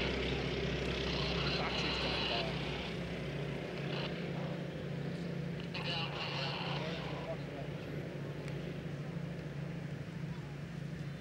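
Old propeller aircraft pass overhead at an Armed Forces Day air display on Plymouth Hoe, a steady droning engine roar heard at a distance with faint crowd and wind noise around it.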